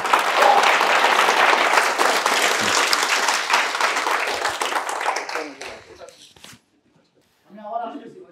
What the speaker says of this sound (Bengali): তাহলে আরেকটা হাততালি হয়ে যাক রিসের জন্য